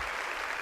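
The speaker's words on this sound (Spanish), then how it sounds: "Démosle un aplauso" Audience applause at a Teletón 2023 show, a brief, steady wash of clapping heard alone for under a second.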